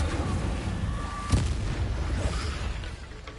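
A fire spell cast in a Harry Potter video game: one sharp booming burst partway through, over a continuous rumbling game soundscape, with no one talking.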